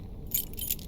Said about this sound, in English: The lion key.